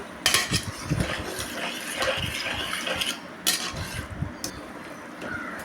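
A metal spoon scrapes and clinks against a pot, stirring vegetables in water in uneven strokes with soft sloshing, close up and without talk.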